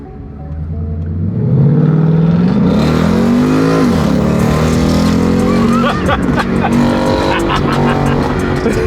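A lowrider car on a Lawndale, California street accelerates hard, its engine roar climbing in pitch through a long, loud rev that stays close and dominant throughout.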